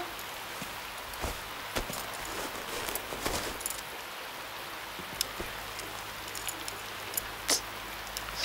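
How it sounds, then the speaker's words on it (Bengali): Rain beginning to fall at night, a steady soft hiss of drops with scattered sharper patters and taps throughout, fairly close and without any talk. "কি বৃষ্টি আরম্ভ হলো"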